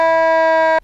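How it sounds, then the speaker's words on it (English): A Rural Metro fire truck's Federal Q siren sounds as a loud, steady harmonic wail that holds for just under a second and then cuts off abruptly. "Federal cue sirens are louder than the sirens you are used to hearing"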